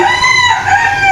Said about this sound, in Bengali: দেখেন মোরগ ডাকতেছে